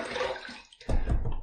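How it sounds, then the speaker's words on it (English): Water splashed onto the face during a shave at a sink, a soft wet patter followed by a brief pause and then a louder, fuller splash. "Let me splash my face with water one more time"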